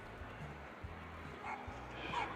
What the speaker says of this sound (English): This is the Chinese Crested dog, one of the toy breeds under group number 9